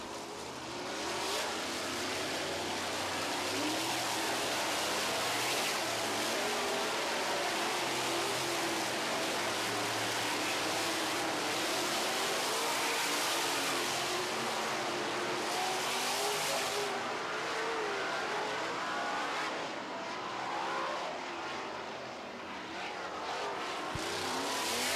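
Sprint cars roar around a racetrack in a dense, continuous engine howl that swells and shifts as they accelerate, loud and unbroken for the whole stretch with a steady crowd-and-track wash underneath.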